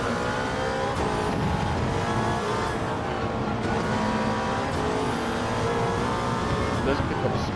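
A 1955 Mercedes W 196 R race car in Gran Turismo 7, its engine droning loudly and steadily with rising pitch sweeps through gear changes, while someone talks over the engine noise.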